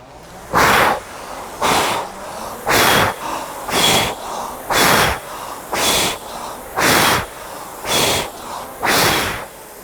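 Rhythmic swimming breathing, two breaths per stroke, exhaling at the front and inhaling going back: ten strong breaths evenly spaced about a second apart, each a sharp airy rush, close and alone.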